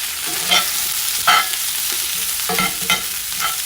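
Peppers and onions fry in oil for chicken fajitas, giving a steady sizzle with a few brief stirring scrapes and clatters in the pan, close by and with no talking.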